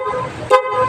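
A car horn wired through a relay switch gives one short, sharp toot over the steady hum of an idling engine.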